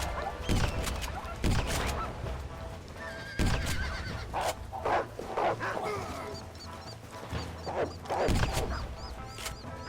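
Horses whinny and neigh repeatedly in Red Dead Redemption, loud and close, with hoof clip-clops and scattered game impacts mixed in.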